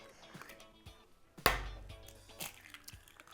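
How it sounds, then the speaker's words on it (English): Eggs cracked one at a time against the rim of a large shallow bowl, one sharp close crack standing out with a softer knock after it, and light handling noises in between. "I'm gonna start by breaking some eggs."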